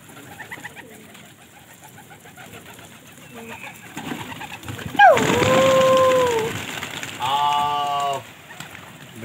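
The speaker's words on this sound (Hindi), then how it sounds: "बिल्कुल नए कबूतर है इसमें।" Pigeons coo in a loft in Pakistan with a fresh collection of Gola fighting pigeons, soft repeated coos and a few louder bursts of calls in the second half, with faint background sounds.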